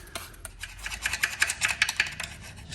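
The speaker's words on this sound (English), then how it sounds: "Get it all in there. And just give that a bit of a scrub." A degreased engine part being scrubbed by hand, a run of quick rasping brush strokes in an uneven rhythm, close and fairly loud, with no voices.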